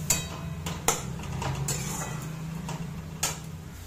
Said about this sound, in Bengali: এইভাবে ভালো করে নাড়িয়ে চাড়িয়ে কষিয়ে নেব।